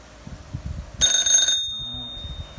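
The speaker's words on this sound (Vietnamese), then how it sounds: "bấm giữ cái chuông, bấm giữ đó, buông ra thì nó tắt" An electric bell triggered by an ESP8266 IoT button rings loudly for about half a second, then stops, with quiet background sounds before and after.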